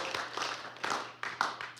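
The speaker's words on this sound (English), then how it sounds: "Yes, feel free to applaud if you'd like." A few soft, scattered claps from a small audience, faint and brief, coming in uneven bursts with no one talking.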